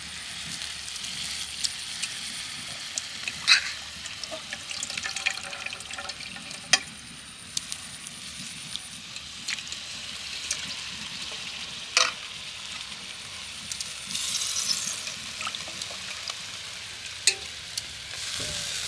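Grated raw potatoes cooking in a pan with water, a steady bubbling sizzle running throughout with scattered scrapes and clicks of stirring, close by, no voices.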